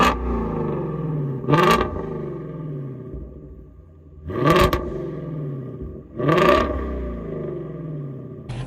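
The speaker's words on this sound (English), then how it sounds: "Getting into GT350. Start her up." A 2017 Ford Mustang Shelby GT350 fires up, then its engine gives three sharp, loud revs over a deep rumbling idle, heard close and with no talking.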